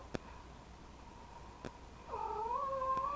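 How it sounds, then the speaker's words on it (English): A house cat gives a short, odd, wavering meow near the end, following a few faint clicks in a quiet room. "She did a weird meow thing"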